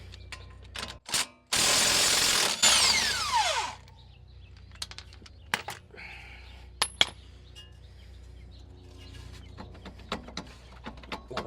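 An impact wrench hammers on a wheel bearing bolt of a Toyota or Lexus press-in hub, one loud buzzing burst of about two seconds, followed by scattered metallic clicks and clanks of tools nearby.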